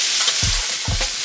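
Chunks of butternut squash land in a hot pan with chorizo, giving two quick thuds followed by a bright, loud sizzle, close up and without speech.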